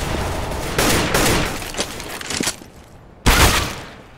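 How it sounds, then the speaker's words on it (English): Gunfire in the video game CS:GO during a bomb-site fight: bursts of rapid shots, a sustained volley, a pause, then another loud burst near the end, with no talk. "Cover me, keep shooting."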